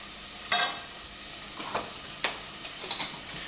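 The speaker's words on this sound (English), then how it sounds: "Sizzling away nicely already." Soft sizzling of red onion frying in olive oil, with a few scraping stirs and clicks of a utensil against the pot, quiet and close.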